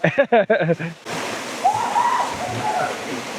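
Waterfall in Ubud, Bali, with a modest flow, rushes as a steady broadband wash, near and fairly loud. A voice speaks over the water briefly near the start.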